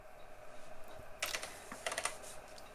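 Keys on a 1970s Monroe 525 mechanical desk calculator are pressed in a quick run of several clicky strikes, heard up close and fairly quiet against a low background hum, with no talking.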